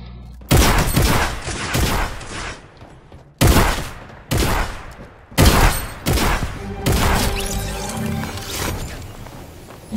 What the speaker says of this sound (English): Dude, are you shooting me?